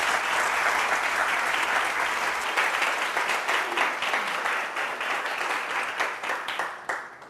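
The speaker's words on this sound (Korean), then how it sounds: "큰 박수로 맞아주시기 바랍니다." Sustained crowd applause in a university lecture hall greeting the CEO of Doosan Engine as he takes the stage, dense and even at first, then thinning and tapering off toward the end with no talk over it.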